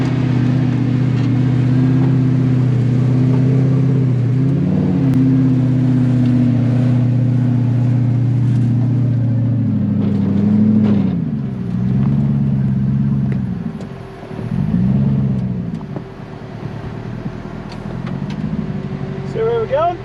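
A V8 off-road trails truck with a 1UZ engine idles in a low steady rumble, then revs in several rising and falling surges, loud and close, with people talking over it.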